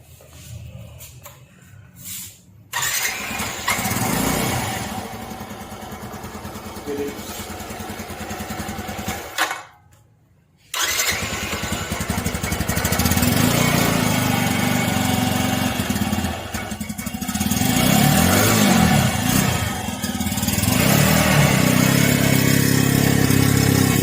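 A red Suzuki GD 110S motorcycle engine sputters briefly, cuts out, then fires up and settles into a steady, loud idle close by.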